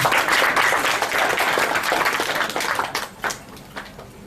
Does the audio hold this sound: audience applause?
yes